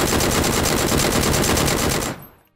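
A new weapon in PlayerUnknown's Battlegrounds fires a rapid, continuous automatic burst of about two seconds, loud and close, then cuts off and rings out into a short fading tail.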